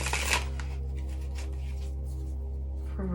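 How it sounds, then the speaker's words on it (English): Tarot cards shuffled in a quick riffle near the start, then soft continuous handling and light rustling of a lap shuffle under a steady low hum. "One more classy lap shuffle"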